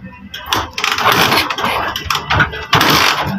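A TMX 155 motorcycle with a starting problem is kicked over, giving a few loud, rough bursts of engine cranking and sputtering close by, with some voices around.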